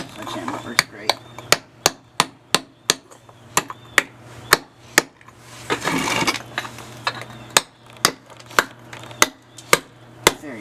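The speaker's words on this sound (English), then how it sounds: "Here's it with a sledgehammer. It's a 4-pound sledgehammer." A 4-pound sledgehammer strikes antique tile in a steady series of sharp, loud impacts about every half second. A brief crunching scrape breaks in around the middle of the series, and there is no talking.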